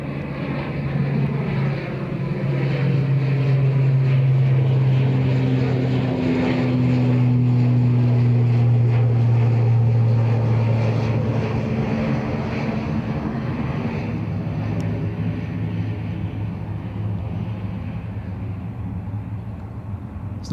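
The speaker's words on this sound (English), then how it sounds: "It's nothing like the sound of a prop overhead to make you think you're getting invaded" A propeller plane drones loudly overhead at Dublin Airport, its low engine hum rising and falling steadily throughout with no talking.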